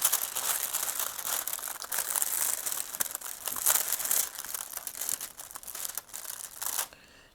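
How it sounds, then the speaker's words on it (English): A plastic sheet is rolled up by hand, giving a loud, close, continuous crinkling and crackling that stops abruptly near the end. "let me try to roll this plastic back up. I'm sorry if it's making a lot of crinkling sounds."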